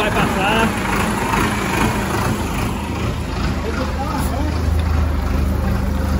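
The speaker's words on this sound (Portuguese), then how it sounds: "O trator vai passar." A heavy tractor engine drones steadily while driving through mud at night, a low continuous rumble close by, with people talking over the noise.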